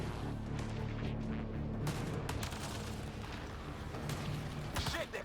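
Dense battlefield gunfire in Mass Effect Andromeda, a continuous roar of shots and blasts with a low rumbling drone beneath and sharper cracks breaking through near the end.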